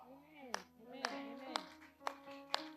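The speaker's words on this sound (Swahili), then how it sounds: "Au unaweza kupiga makofi" An audience claps during a church sermon in a steady beat of five sharp, evenly spaced claps. A voice speaks faintly underneath.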